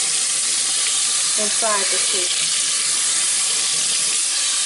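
Water is rinsed through a child's natural hair twists, giving a steady, loud rushing hiss of running water. A voice speaks briefly partway through.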